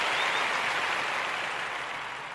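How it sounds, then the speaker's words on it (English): Applause for the Kuumba babies: a dense, even wash of clapping hands, steady and moderately loud throughout with no voices. "I want to give all of the Kuumba babies a round of applause."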